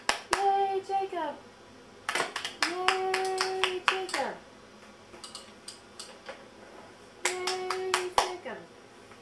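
Hands clap for a baby in short bursts of sharp, close claps, with an adult's cheerful voice speaking and cheering between and over the claps.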